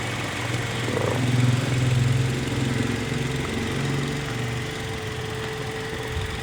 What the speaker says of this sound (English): So we're just running the engine at this moment